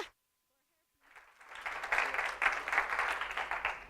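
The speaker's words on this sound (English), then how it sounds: "So give applause." After a second of silence, an audience at a neuroscience lecture begins clapping, building into moderate applause that holds steady for the remaining few seconds.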